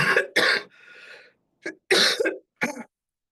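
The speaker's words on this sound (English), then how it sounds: "I'm still struggling with a little bit of a cough here" A person coughs in a close, loud series of about five harsh bursts with a throat-clearing rasp and short gaps, with no speech.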